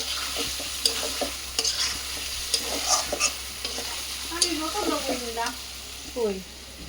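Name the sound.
food cooking and being stirred in a pan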